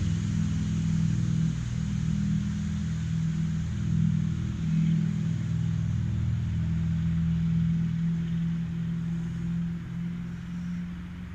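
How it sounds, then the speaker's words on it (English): A big truck pulling a trailer rumbles past, with a loud, steady low engine and road roar that holds throughout and slowly eases, no voices. "Now that was a big truck, but it was pulling a trailer"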